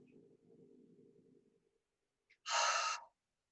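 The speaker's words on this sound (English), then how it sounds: "Exhale. Keep your mouth open as you inhale." Low breathing comes first, then a short pause and a loud, sharp inhalation through an open mouth, taken during a breathing exercise in a virtual voice lesson.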